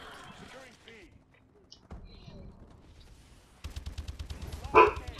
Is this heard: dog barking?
yes